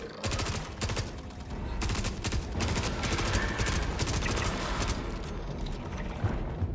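Rapid, continuous bursts of automatic gunfire from a firefight in the video game Star Citizen, dense and loud throughout with mechanical clatter mixed in and no pauses.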